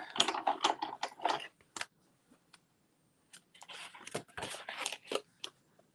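Paper being cut with a circle die in a crafting machine, a close series of crisp clicks and mechanical crunches in two bursts separated by a quiet pause.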